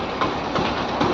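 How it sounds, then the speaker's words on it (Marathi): A train rolls past nearby in Kerala, a steady broadband rumble with faint rhythmic clatter from the wagons. It holds loud and continuous through the short stretch, with no voices over it. "इकडे जात ट्रेन यार ट्रेन"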